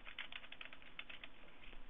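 Fingers type a quick, steady run of keystrokes on a computer keyboard, close and clear, with no one talking.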